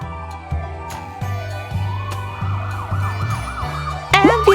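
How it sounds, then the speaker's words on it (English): Ambulance siren wailing in repeated rising and falling tones, clear and steady over a low vehicle hum, with a brief sharper electronic chirp near the end. "That sound comes from an ambulance."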